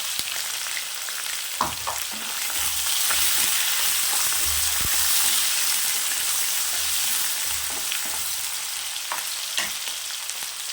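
Onions and curry leaves fry in a pan for a spicy potato dosa filling, giving a continuous close sizzle with periodic spoon scrapes and light taps as they are stirred.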